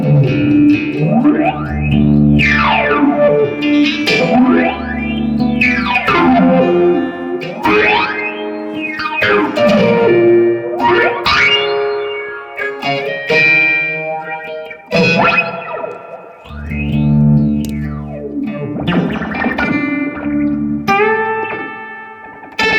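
Electric guitar run through the Fender Waylon Jennings phaser pedal with its range control adjusted, deep swirling sweeps repeating over strummed chords, loud and close with no talking.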